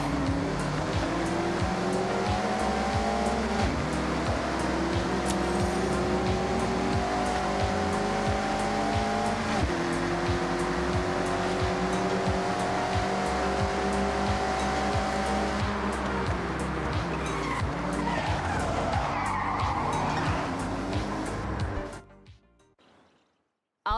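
A Mazda MX-5 drifts sideways through corners in the Forza Horizon racing game, its engine droning loudly and steadily while the tires squeal in long, continuous streaks, before everything cuts out abruptly near the end.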